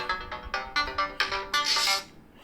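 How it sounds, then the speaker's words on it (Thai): A mobile phone ringtone plays a loud, bright, repeating electronic melody of quick tones for about two seconds, with nothing else heard. "โทรศัพท์ก็จะดังหน่อยนี่พี่เนาะ"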